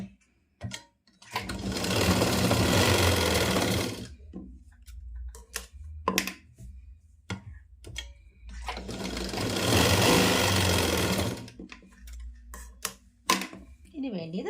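Sewing machine stitching two side pieces of a pleated nighty together, running in two long steady loud bursts of a few seconds each, separated by pauses with brief handling clicks.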